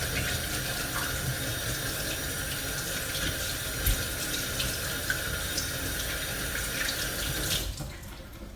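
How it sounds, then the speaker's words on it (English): Tap water runs steadily into a kitchen sink while hands are washed, a constant near splashing rush that cuts off abruptly at the end. "I'm now going to quickly wash my hands again"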